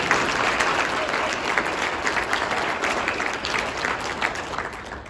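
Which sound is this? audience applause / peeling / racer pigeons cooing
audience applause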